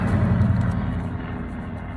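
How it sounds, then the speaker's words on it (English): A helicopter somewhere overhead gives a steady, low rumble that stays constant and then eases slightly, with no talking. "there's a helicopter"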